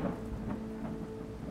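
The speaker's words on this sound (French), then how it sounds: "Le ciel s'ouvre et la pluie recouvre le paysage de ses nappes argentées." Rainstorm with thunder over the African savanna: dense, steady rain hiss under a low rolling rumble, loud and continuous with no voices.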